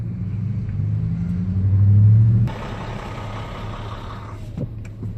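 A 2010 Ford F-150 pickup driving on a road gives a loud, close engine rumble that swells as it gets going, then settles into a steadier, quieter cabin drone with road noise.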